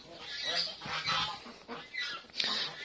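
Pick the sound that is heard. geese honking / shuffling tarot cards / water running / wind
geese honking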